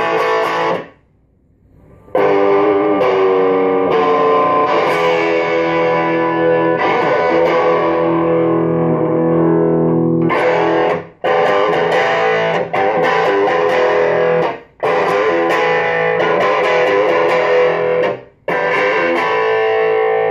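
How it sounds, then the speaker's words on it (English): Electric guitar played through a cheap overdrive distortion pedal, sustained fat distorted chords ringing loudly with a few brief silent breaks between phrases. "I've never had another distortion pedal that sounds the way this one does."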